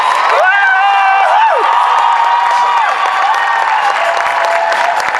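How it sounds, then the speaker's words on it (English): An audience at a Perth cosplay championship stage event cheers and applauds loudly and continuously, with whoops and shouts over dense clapping, while a voice carries briefly on top near the start. "Give her another big cheer."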